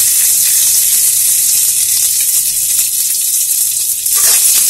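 Dry fruits fry in ghee in a kadhai on a gas stove, giving a loud, steady, close hiss of hot fat with a faint bubbling texture and a brief dip near the end, with no voices.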